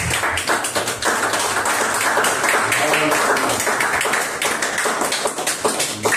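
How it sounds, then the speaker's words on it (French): A church congregation claps steadily through a Sunday service, a dense and loud wave of hand claps that fills the room without pause. "Donnons des acclamations, Seigneur."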